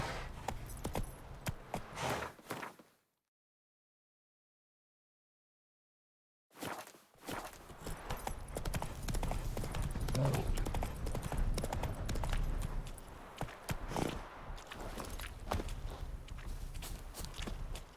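A horse's hooves clip-clop at a walk in The Witcher 3, a close rhythmic clatter broken by a few seconds of complete silence before resuming, with faint jingling of tack.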